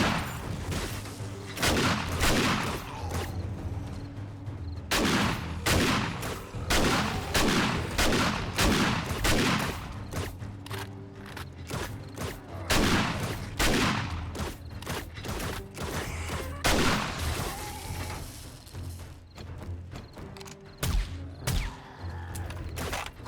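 Bursts of rapid gunfire from a survival horror video game, loud and close, firing in repeated volleys with short pauses between strings of shots, carrying on through most of the stretch before thinning out near the end.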